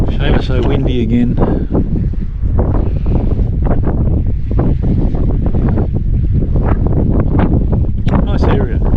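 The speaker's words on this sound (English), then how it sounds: "Shame it's so windy again." Strong gusts buffet the microphone at the end of a long seaside jetty, a constant loud roaring rumble with surf and water beneath, and people talking over it.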